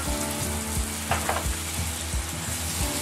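Beef meatballs with peppers, thyme, clove, garlic, bay leaf and cayenne frying in a pan, a steady close sizzle with soft stirring scrapes repeating through the whole stretch, no voices.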